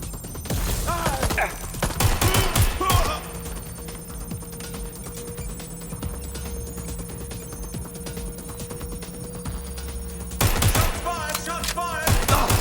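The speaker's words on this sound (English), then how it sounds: "Shots fired!" Rapid bursts of video game gunfire crackle in two clusters, one near the start and another near the end, over a steady electronic hum and tone with quieter stretches in between.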